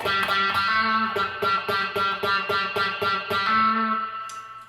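Electric guitar played through a Q-Tron envelope filter in a compact rig, a rhythmic run of repeated chords with a quacky, sweeping filtered tone, loud and alone, ending on a sustained chord.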